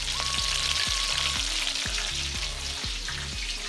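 Chicken wings for buffalo wings frying in hot oil, a steady close sizzle and crackle that runs without a break under faint background tones, with no talking.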